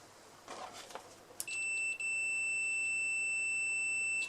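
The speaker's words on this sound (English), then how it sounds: "Buzzer." A Hantek 2D42 multimeter in continuity test mode gives a steady, clean electronic buzzer tone after a few faint clicks, holding continuously with a brief dropout partway through.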